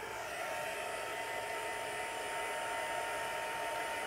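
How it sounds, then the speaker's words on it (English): Heat tool drying watercolor stamping ink on card, a steady close blowing roar like a hair dryer, constant and unbroken, with no talk. "Then let's hit it with the heat tool."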